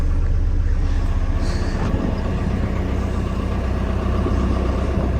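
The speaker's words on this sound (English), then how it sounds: "Let that one warm up." A Caterpillar tractor engine idles while warming up in snow, a steady, loud diesel rumble with constant low throbbing and no pauses.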